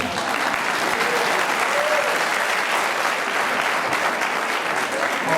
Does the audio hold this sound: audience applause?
yes